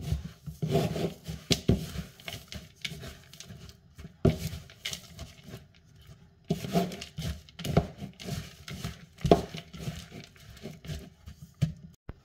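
A spoon stirs cashew nuts and sesame seeds through sticky sugar syrup for brittle, making close, repeated scraping and rubbing strokes in uneven bursts with brief pauses and no talking.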